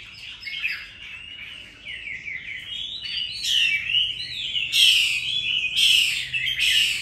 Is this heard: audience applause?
no